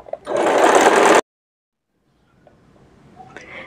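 Sewing machine running a straight seam on a suit, a steady loud mechanical whir lasting about a second before stopping abruptly, followed by quiet faint rustling.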